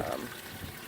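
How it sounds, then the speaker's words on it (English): Pond water from a regular sump pump pipe pours down from above into a backyard pond, a steady close splashing trickle filling the short moment. "that I have water coming out from above"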